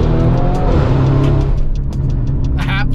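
A truck engine revving hard inside a tunnel on an early-morning run, from a limited-production truck of only 875 made: a loud, sustained roar with booming echo that fills the space, a few faint voices underneath toward the end.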